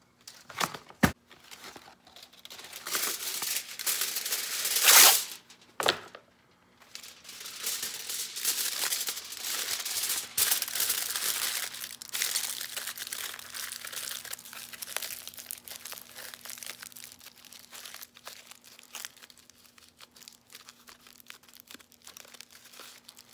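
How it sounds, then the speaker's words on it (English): Aluminium foil being crumpled and pressed into shape for a homemade carrot, close crackling and crinkling in irregular bursts, loudest early on, then softer scrunching that tapers off. "Gonna add just another small bit of foil to the top here."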